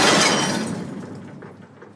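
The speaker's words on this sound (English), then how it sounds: "We began by dropping 2 toilets into the bin." Two porcelain toilets smash inside an empty metal dumpster, a loud shattering crash with breaking ceramic that rings out and decays into a natural, echoing reverberation over about two seconds.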